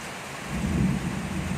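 A low rumble of thunder swells briefly over a constant hiss of heavy rain in Bangkok.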